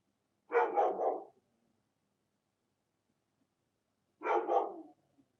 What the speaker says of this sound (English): Oh, now my dog's barking.